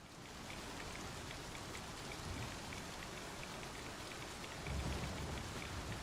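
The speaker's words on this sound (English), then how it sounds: "I can see the rain, but I don't know if it comes through on the stream." Steady rain in the Star Citizen video game pours down during a storm, a dense continuous hiss with patter on surfaces, holding at an even level and swelling slightly near the end, with no voices.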